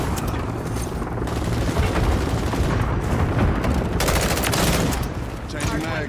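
Full-auto M16 fire from the video game Modern Warfare 3 rips out in dense, continuous bursts, loud and close, with explosions and heavy battle noise layered underneath and occasional speech.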